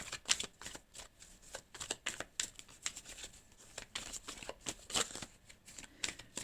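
Tarot cards for a December Aquarius love reading are shuffled continuously, with quick riffling flutters and soft slaps in an uneven rhythm, close but faint with no talk.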